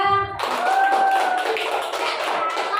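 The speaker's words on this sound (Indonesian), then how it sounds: "Tepuk tangan untuk kelompok 2." Classroom applause for a student group: dense, steady clapping from many hands, loud and close, running without a break after a brief quieter start.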